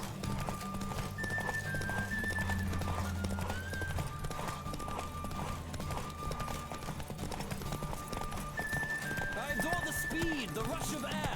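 Horse galloping in the video game The Witcher 3, steady clip-clop hoofbeats running through the whole stretch under game music and a voice talking, with a brief whinny near the end.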